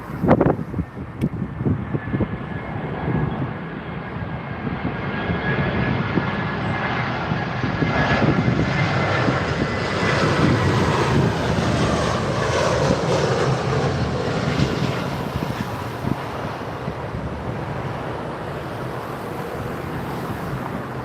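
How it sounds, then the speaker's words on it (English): An Aer Lingus airliner lands on runway 27R at London Heathrow, its jet engines a loud, sustained roar with a faint whine that builds and lingers as the aircraft passes close by, with wind buffeting the microphone. "This is the Aer Lingus coming in."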